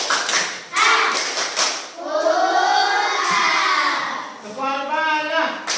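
A fourth-grade classroom of schoolchildren claps out a rhythmic spirit clap, quick bursts of hand claps mixed with the group chanting loudly in unison.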